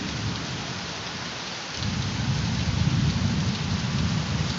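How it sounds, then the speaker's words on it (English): Heavy rain pours steadily in a thunderstorm in northwest Dalton as a deep rumble of thunder swells about halfway through and keeps rolling beneath the dense hiss of the downpour. "It's raining heavier."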